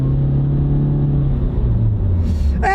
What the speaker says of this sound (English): We'll give it a little gas.